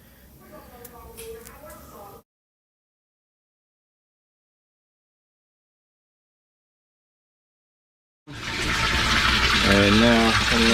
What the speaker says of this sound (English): right now I'm just using the garden hose to do the test